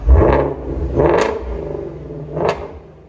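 A 2017 Ford Mustang GT350 with its 5.2L Voodoo V8, resonator delete and X-pipe, exhaust valves open, revs loudly three times in quick succession, each blip rising sharply then falling back to a rumbling idle, close to the exhaust.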